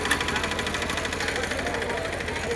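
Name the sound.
tractor engine idling at agricultural exhibition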